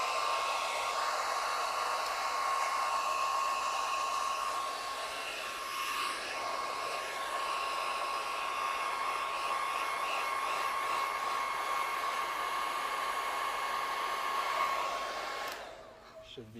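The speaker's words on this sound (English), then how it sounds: "If it's taking a little bit longer for your adhesive to dry, you can take a hairdryer." A hair dryer blows continuously at close range to dry adhesive on a model, a steady whirring hum with airy rush, cutting off near the end.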